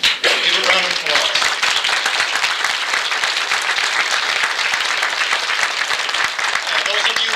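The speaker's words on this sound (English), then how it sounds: "Give a round of applause" Audience applause fills a room at a Rotary-style youth exchange presentation in Sun Valley, dense steady clapping from many hands lasting several seconds, with some voices mixed in beneath.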